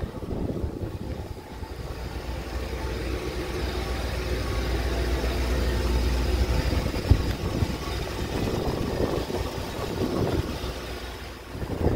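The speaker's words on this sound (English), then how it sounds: "Engine runs super strong." A 2008 Lincoln Navigator L with a tow package idles steadily, a low continuous engine rumble with a gentle swell in the middle, heard up close with no talking.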